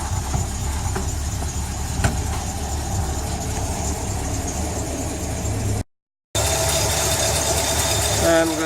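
A car engine idles steadily and loudly up close in a workshop during a Powerglide transmission band adjustment and selector seal service, with a brief dropout partway through.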